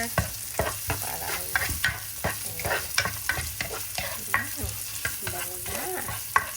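Ginger fries in a pan for a mung bean and beef dish, a steady sizzle under repeated scraping stirs of a spoon against the pan.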